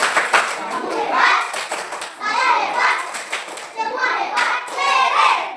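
A classroom group of students is given a rhythmic clapping cheer, with crisp hand claps mixed with children's chanting voices in bursts throughout.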